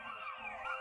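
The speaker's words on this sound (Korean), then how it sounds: "그 뒤를 이어 날카로운 사이렌 소리가 밤하늘을 갈랐다." A sharp emergency siren wails across the night sky in one brief, steady sweeping tone, heard alone and at a fairly low level.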